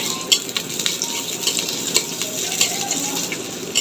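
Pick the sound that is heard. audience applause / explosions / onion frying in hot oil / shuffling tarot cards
onion frying in hot oil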